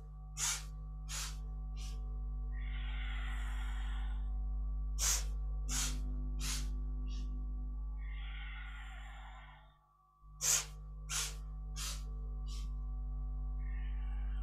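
Slow, breathy exhales and sighs during a kundalini yoga Yoga Mudra lift, several long breaths spaced a few seconds apart over a steady, droning music bed.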